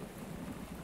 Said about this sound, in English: We can't go fishing in a storm.